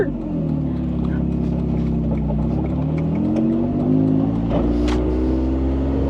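A car engine hums steadily, then its pitch climbs as the gas pedal is pressed. The engine is close, loud and continuous throughout.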